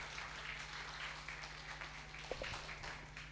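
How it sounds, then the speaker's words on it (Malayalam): An audience at a literature festival session claps in a sustained even patter of applause, moderately distant, with a steady low hum underneath. "എനിക്കൊരു നല്ല കൈയടി തന്നെ ഞാൻ പോകാൻ വേണ്ടിയിട്ട്"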